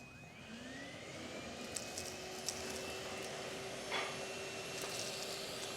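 A Wessel Werk HFT 265 soft roller hard floor cleaner head runs with a steady, fairly quiet whirring hum and a faint tonal whine, with a few light knocks along the way.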